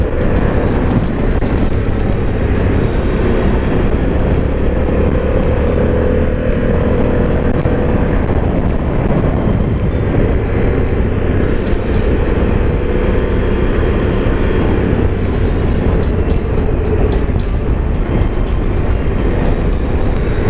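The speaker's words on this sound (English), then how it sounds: "the engine is just so nice to pull out of the corners" Harley-Davidson Pan America adventure motorcycle engine pulling hard through corners on a test ride, a loud continuous roar mixed with wind rush, close and steady for the whole stretch.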